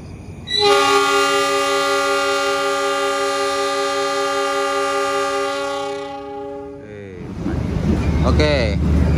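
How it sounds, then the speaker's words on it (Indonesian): The Kuto Jaya Selatan passenger train arrives at Gandrung Mangun station, sounding one long, loud, steady horn blast before rumbling wheels and squealing brakes take over. "Ini ternyata kereta api Kuto Jaya Selatan"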